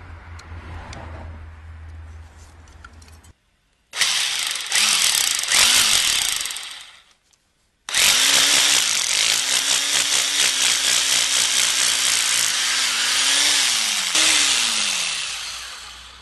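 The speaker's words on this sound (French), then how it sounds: "je trace avant de percer au perforateur" Rotary hammer drilling holes into a wall with a 6 mm bit while fixing a level bracket, heard as two loud sustained bursts of grinding, whining drilling separated by a short pause, close and with no talk over it.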